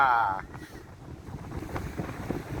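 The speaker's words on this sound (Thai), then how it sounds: "ลมดีดี" Strong wind gusting at the seaside at Bang Phra, Chonburi, a steady roar buffeting the microphone, loudest at the start and continuing throughout as a broad rushing noise.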